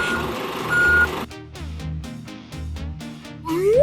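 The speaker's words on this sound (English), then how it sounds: "This is a bulldozer. It pushes heavy soil and clears land." A bulldozer's reversing alarm beeps in a steady, evenly spaced series after a burst of rumbling engine noise, with a rising tone sweeping in at the end.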